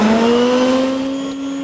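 An Osred inverted router spins under a wooden workpiece while it cuts out table numbers. The loud, steady, high-pitched motor whine holds one tone the whole time, with no talk over it.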